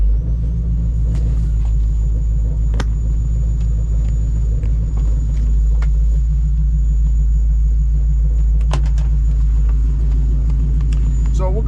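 A 1973 Ford Mustang Mach 1 with an H-code 351 Cleveland V8 rumbling steadily on the move, a deep continuous engine drone with a few clicks and knocks, heard under someone talking.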